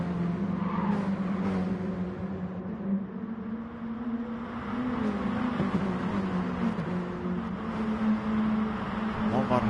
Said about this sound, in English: So a big old train of minis coming down this start-finish straight